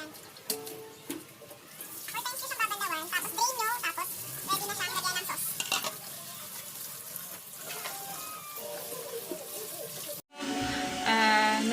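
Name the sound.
water rinsing cabbage for kimchi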